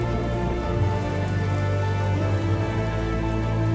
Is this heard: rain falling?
yes